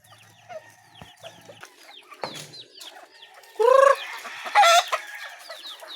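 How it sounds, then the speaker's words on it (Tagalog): Pet chickens roaming freely in a yard, with repeated clucks and chirpy calls scattered throughout and two louder, drawn-out squawks near the end. "pinagala po natin ating mga alagang manok"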